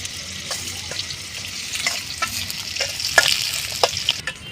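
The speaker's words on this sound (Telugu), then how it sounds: "ఇప్పుడు కాగింది, నీరు పడ్డాయి కదండి, అందుకే చిటపట్లు ఆడుతున్నాయి" Soaked pieces of dried fish sputter and crackle in hot oil in a village kitchen, a steady broadband sizzle punctuated by sharp pops that grow busier toward the end, close and loud with no talk.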